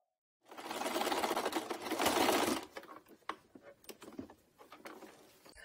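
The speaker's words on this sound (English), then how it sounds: "sewing the masks herself" An electric sewing machine stitching cloth face masks runs in a steady rapid whir for about two seconds, then stops, followed by softer handling clicks and fabric rustles nearby.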